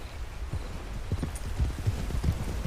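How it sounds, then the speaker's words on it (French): A horse's hooves clip-clop at a steady trotting rhythm while being ridden in a video game, the dull beats fairly close and alone over a soft background hum. "Je suis toujours sur un cheval."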